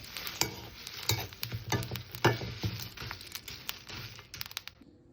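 Whole garam masala spices are stirred and lightly toasted in a pan, giving soft scraping and rattling strokes in an irregular rhythm, close and fairly quiet, with faint sizzling between stirs.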